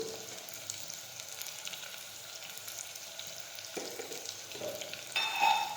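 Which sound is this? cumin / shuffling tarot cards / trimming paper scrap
cumin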